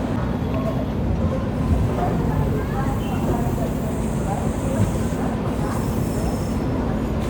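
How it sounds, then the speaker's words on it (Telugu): Simhadri Express train 17239 rolls out of Godavari railway station, a steady close rumble of wheels and carriages with a continuous low drone throughout and faint squeal overtones, no distinct horn blasts. "మన ట్రైన్ అయితే గోదావరి రైల్వే స్టేషన్ నుంచి డిపార్ట్ అయిపోయిందండి"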